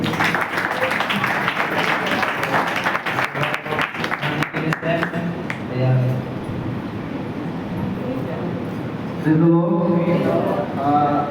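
An audience at a spiritual gathering claps in a long, dense burst of applause to welcome Maharaj ji, then it fades as a voice begins speaking.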